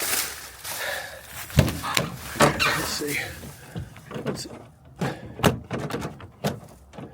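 A locked door is tried by hand, with a series of sharp knocks, rattles and thumps mixed with a man's speech over the first few seconds, then more clattering bursts.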